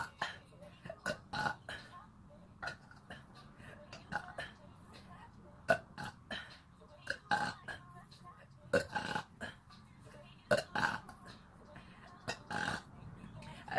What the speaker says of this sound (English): 22 burps at once